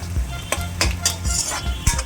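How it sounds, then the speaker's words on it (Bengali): Onions sizzle in hot oil while a utensil stirs and scrapes the pan in quick, uneven strokes, close and fairly loud, with a steady low frying hiss beneath. "লাল লাল করে একটু পেঁয়াজটা ভালো করে ভাজতে হবে"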